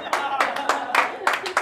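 A live stand-up comedy audience claps in short bursts, several quick sharp rounds of hand clapping close together, loud and near, with no talking over them.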